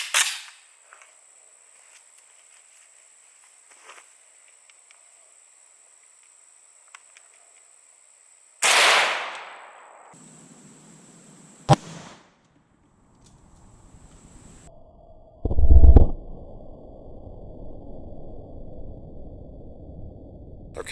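An AK74 rifle fires a single 5.45x39mm 60 grain full metal jacket round outdoors, a loud sharp crack with a quick decay, followed by rustling and a second loud burst of noise.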